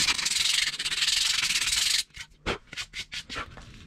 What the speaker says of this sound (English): and then as I sand, it gets a little bit lighter